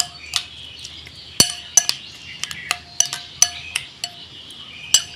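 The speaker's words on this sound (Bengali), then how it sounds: "একটু হলুদ গুঁড়ো আর একটু সামান্য লঙ্কার গুঁড়ো দিয়ে ডিমটাকে আমি ভালোভাবে ফাটিয়ে নেব এইভাবে" Fork or whisk clinking against a bowl while eggs are beaten with turmeric and chili powder, a quick series of sharp metallic clicks, close and moderately loud, with no talk.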